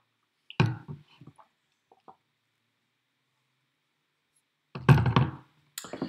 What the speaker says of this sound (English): Okay, now let me drink a glass of water.